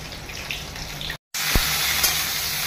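Loud, close sizzling of cauliflower frying in oil, a steady hiss broken by a short gap and a single soft knock.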